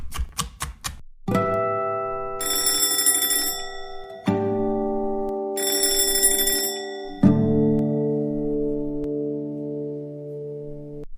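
An alarm clock rings for a child to wake up, starting with a few quick ticks and then repeating loud, bright bursts of ringing that stop and start again, with no voices.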